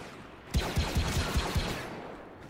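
Rapid volley of blaster-style shots in Star Wars Battlefront 2, about six sharp evenly spaced cracks over a second, fairly close, set against a steady wash of battlefield noise.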